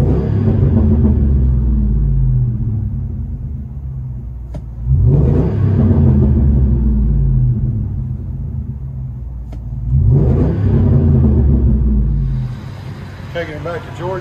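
Cabin of a 10th-generation Ford F-Series pickup with a 5.4L Triton V8 and custom exhaust, a deep steady rumble swelling into two strong revs before settling back to a low drone, with brief speech near the end.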